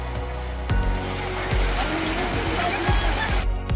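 Small monsoon waterfalls and running water along a jungle trek in the Malshej Ghat area, a steady broadband rush of flowing water that fills the whole clip with a few soft thumps.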